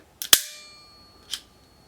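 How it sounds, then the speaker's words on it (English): Two sharp metallic clicks in quick succession, the second ringing briefly, then a softer click about a second later; close and crisp with no talking. "as I pulled it back, you hear it go into cock"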